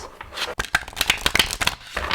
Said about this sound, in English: And this is a great shuffle, like that.